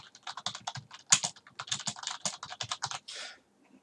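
Computer keyboard typed on in a quick, even run of close clicking keystrokes while adding to an email message, ending in a brief slightly longer burst, no talking.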